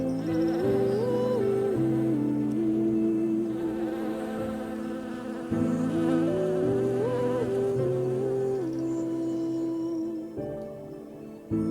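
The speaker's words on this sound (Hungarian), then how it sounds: "A méhek alig várták, hogy újult erővel ismét szorgos munkához láthassanak." Honeybees buzzing in a steady, close drone at a hive, with a wavering pitch that rises and falls in a continuous swarm hum that lasts throughout and is heard mostly alone.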